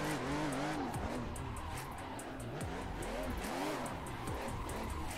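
A car in a driving video game drifts around the Drift Playground track, tires squealing in wavering, repeated screeches over a steady engine drone, sustained and fairly faint throughout.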